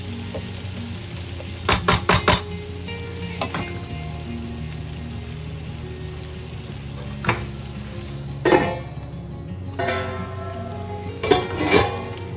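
Chopped onion fries in a pan with a little salt, a steady soft sizzle running throughout, broken by several sharp clatters of stirring and scraping, close and fairly loud.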